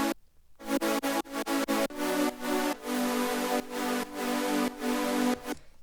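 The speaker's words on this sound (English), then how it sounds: "White noise is what enhances the chords." Bright, buzzy supersaw synth chords stab in choppy rhythmic bursts, then sustain longer, with a hissing white noise layer filling the top end. No voices.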